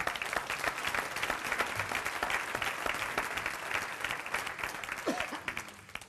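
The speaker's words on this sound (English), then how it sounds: "Let's give another round of applause to all our honorees." Sustained audience applause for honorees at a gala, a dense, even wash of clapping from a large room that holds steady for six seconds and tapers slightly at the end.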